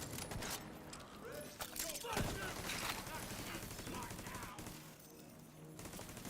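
M1A rifle gunfire in The Division 2, loud sharp shots mixed with bursts of automatic fire from other weapons, continuing through the stretch under game noise and a talking player.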